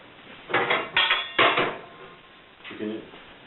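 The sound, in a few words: frying pan placed on rocket wood stove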